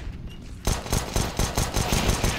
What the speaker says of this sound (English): No, it's going to be Gratisfaction with his pistol.